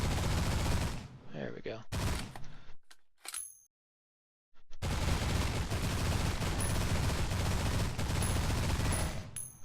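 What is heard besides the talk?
machine gun shooting rocks in video game Destination Sol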